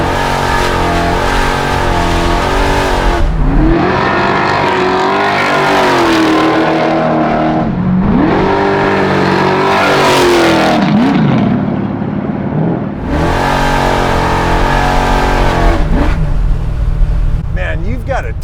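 A 632 cubic inch V8 in an 850 hp Chevelle is revved hard in repeated long bursts, each rise in pitch followed by a drop back, loud and close, with some voices mixed in.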